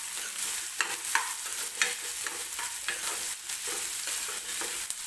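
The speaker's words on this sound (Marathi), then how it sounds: "लसूण सुद्धा मी टाकणार आहे, म्हणजे कांद्यासोबतच लसूण सुद्धा व्यवस्थित तेलामध्ये भाजला जाईल" Garlic and onion fry in oil for a Maharashtrian tur dal and onion dish, a steady close sizzle broken by repeated spoon scrapes and stirring clatters, with no voices.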